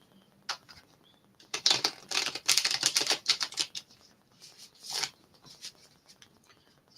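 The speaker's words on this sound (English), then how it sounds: "So I got the tarot shuffle. I'm gonna shuffle both so we can pull them at the same time." Tarot cards being shuffled by hand in bursts of rapid papery riffling and flicking, a long flurry in the middle and a shorter one near the end, close and fairly quiet, with no voices.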